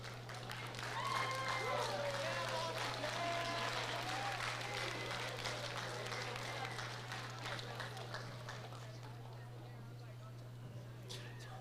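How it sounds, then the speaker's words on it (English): Seniors at a high school awards ceremony applaud their loved ones, fairly faint crowd clapping in a hall with a constant low hum, scattered voices and whoops over it, fading slightly toward the end. "Seniors, would you stand up and give your loved ones a round of applause"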